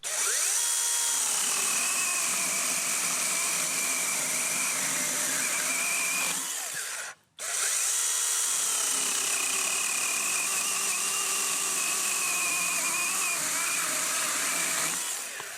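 A DeWalt 20V pruning chainsaw fitted with an Oregon chain cuts through wood with a loud, steady electric whine, stopping briefly midway and then resuming.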